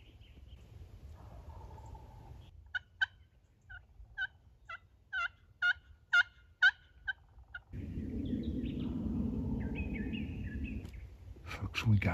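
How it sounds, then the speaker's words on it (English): A wild turkey gobbler calls from up a hill in the woods, a run of sharp, evenly spaced gobbling notes at moderate distance, followed by rustling and other bird calls. "Folks, we got one gobbler just up the hill to my right."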